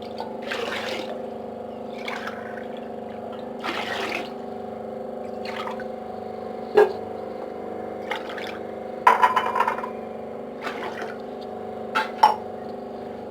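Water being poured into a pot while cooking sakkara pongal rice, a steady splashing fill with a few clinks of a glass against the rim, close and unaccompanied by talk.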